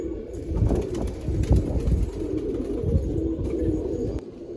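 Pigeons in a loft cooing together, a dense, close chorus of low throaty coos that runs throughout, with faint chirps and rustling behind.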